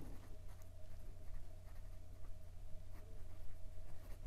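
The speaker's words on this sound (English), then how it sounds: "for some reverse writing" A Leonardo Furore Grande piston-filler fountain pen nib writing in reverse on paper, a soft continuous scratchy scrape with faint stroke-by-stroke variations, close and quiet throughout.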